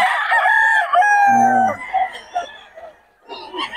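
A gamecock rooster crows loudly and close by in one long, strained call that breaks off, followed by quieter clucking sounds.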